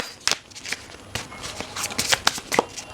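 Tarot cards are shuffled and drawn by hand in a string of soft, quick, close riffling and snapping bursts with brief gaps between them.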